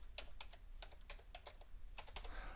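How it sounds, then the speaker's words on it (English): Quick, light keystrokes on a computer keyboard as a password is entered, a close, quiet run of irregular clicks with a brief pause partway through. "and then we'll type in the password"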